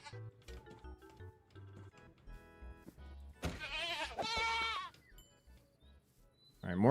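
Goats in Minecraft Hexxit II bleat in two strong, wavering cries, one long and one rising at the end, over quiet plinking game music.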